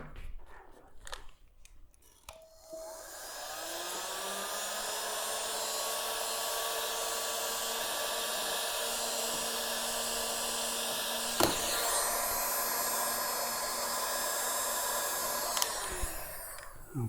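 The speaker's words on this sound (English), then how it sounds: "Let me heat shrink that." A heat gun blows a steady, loud whooshing roar with a constant whine while shrinking heat shrink tubing on the wiring of an EGO mower under repair, preceded by some clicks and handling noise and cutting off near the end.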